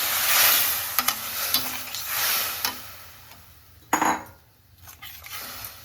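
Water poured into frying spice masala for a tomato and chhena dish, giving a hissing sizzle with scattered clinks and scrapes of a utensil against the pan, loudest near the start with a sharp burst midway.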